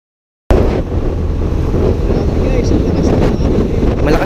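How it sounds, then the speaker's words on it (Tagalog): Strong wind batters a GoPro microphone on a motorcycle ride through Ilocos. A loud, continuous, low roaring rumble erupts suddenly after a brief silence and keeps buffeting steadily to the end. "malakas na hangin ang sumalubog sa amin"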